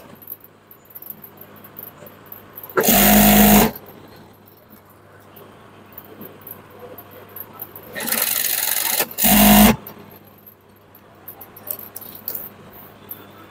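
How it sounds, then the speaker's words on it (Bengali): A sewing machine stitches a burqa sleeve in loud, fast bursts: one run of about a second, then after a quiet pause two more close bursts, with faint handling noises of fabric between them. "নিয়ে এই হাতার সাথে আপনি 1/2 ইঞ্চি চওড়া করে সেলাই করে নেবেন।"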